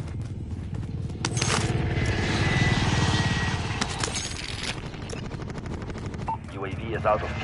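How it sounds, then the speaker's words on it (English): An attack helicopter in Plunder mode rumbles and whirs amid bursts of rapid machine-gun fire, loud and dense throughout, with a voice speaking partway through. "Hostile attack chopper carrying cash."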